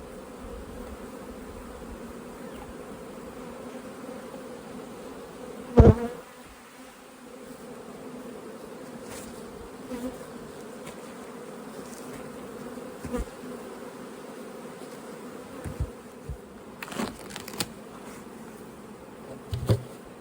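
Bees hum steadily and continuously close by, with a few louder buzzes as insects pass near, and occasional soft knocks in the background.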